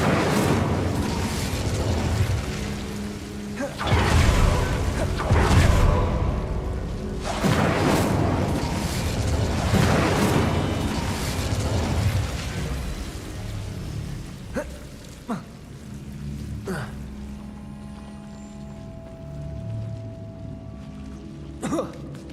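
Incendio fire spells cast in Hogwarts Legacy, repeated whooshing fiery blasts and rumbling bursts that roar loudly at first, then thin out into sparser crackles and pops with a faint steady tone behind.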